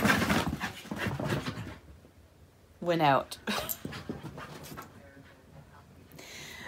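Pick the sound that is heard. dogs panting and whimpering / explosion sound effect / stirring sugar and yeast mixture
dogs panting and whimpering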